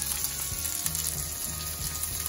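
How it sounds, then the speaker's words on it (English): Prawns sizzle in a frying pan for chilli prawn pasta, a steady hissing fry close by with intermittent scraping and clattering as they are moved around, no voices. "I'm going to add the prawns."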